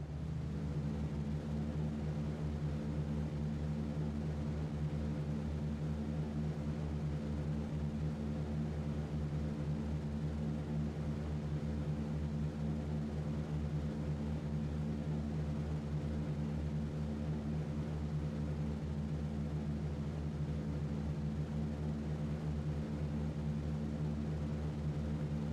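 Aircraft engines in a flight game drone steadily during takeoff, a continuous low propeller-like hum holding at an even, moderate loudness with no voices.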